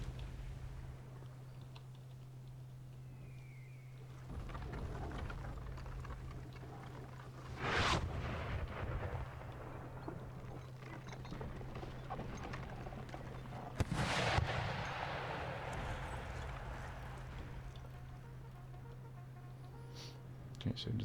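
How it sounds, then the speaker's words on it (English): Artillery fire in a Total War Napoleonic campaign battle, two distant booming cannon blasts with rumbling tails over a steady game hum, with keyboard clicks and someone talking. "most of the artillery is fighting here"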